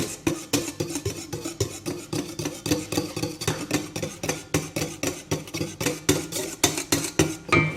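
A utensil scraping and clinking against a bowl while flour is stirred gradually into a simple, soft cake batter, a quick, steady rhythm of repeated strokes, close and clear.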